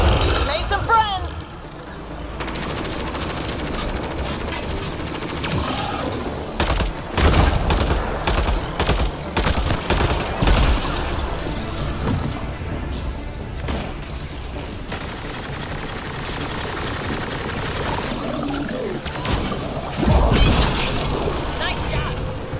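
Gunfire in the sci-fi shooter Mass Effect: Andromeda, dense bursts of shots and impacts over game sound, with a voice speaking now and then across the fight.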